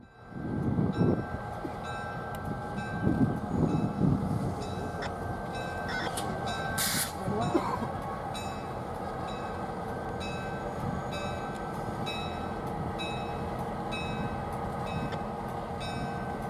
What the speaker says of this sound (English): enjoy the sights and sounds as we chase the train back to the Clewiston sugar mill.